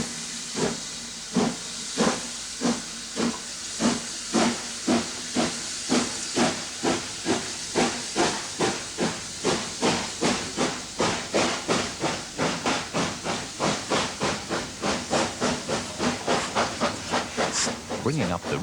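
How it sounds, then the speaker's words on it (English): Bellerophon, an 1874 Haydock Foundry steam locomotive, sets off with a shuttle train, loud rhythmic chuffs quickening steadily from slow beats to a rapid stream over constant steam hiss. "headed by the delightful Bellerophon, built in 1874 at the Haydock Foundry, St Helens, the shuttle sets off for Damems"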